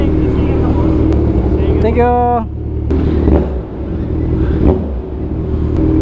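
Heavy road traffic in Divisoria, heard while riding a Kawasaki Z1000 motorcycle: a dense, steady roar of engines and road noise with a short horn-like tone, and a voice speaking briefly over it.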